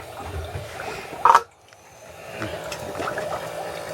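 Brushed RC motor running fully submerged in water for break-in, a steady watery churn and trickle with a brief louder splash near the middle before the sound settles back into a low continuous bubbling.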